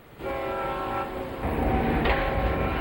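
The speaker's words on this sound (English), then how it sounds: "Cars and buses piggyback on the Alaska Railroad for this unusual trip through the mountains" An Alaska Railroad train carrying piggybacked cars and buses rolls toward Whittier through the mountains. A sustained multi-tone horn blast sounds over a rumbling, clattering rail roar that grows heavier as the train passes close by.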